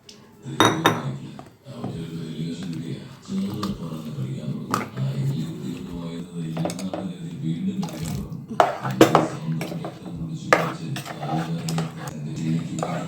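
A mixer jar used for grinding coconut is rinsed and water is poured, bringing clinks and knocks of the jar and utensils, splashes and drips in a kitchen, close by, with a person talking throughout.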